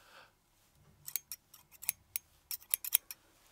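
Scissor blades snip crisply in a fake haircut, a rapid run of sharp, close metallic clicks in uneven bursts over near silence, with a soft breathy rustle at the start.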